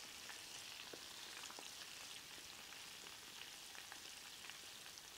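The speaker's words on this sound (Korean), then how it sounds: "놀래미를 이렇게 튀기는 동안에" Greenling fish deep-frying in hot oil, a dense, steady sizzle and crackle of bubbling with scattered sharp pops, close and continuous with no talking.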